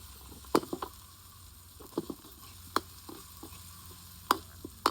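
Clams and shallots stir-fried in a pan, heard as sharp scraping and clacking strikes of a spatula and shells over a low, steady sizzle.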